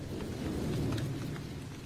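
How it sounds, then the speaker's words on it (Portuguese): Steady rain pours in a dense, continuous hiss with faint low rumbling underneath, close and unbroken throughout with no voices. "A chuva."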